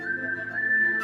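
A single sustained whistled tone, steady and clear, holding nearly one pitch for about a second with no talking.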